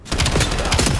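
SMG fire in the Doom video game: one short, loud, close burst of rapid shots lasting about a second, heard alone without talk.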